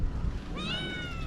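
Street cat in the Philippines giving a single short, rising meow, close by over low background rumble.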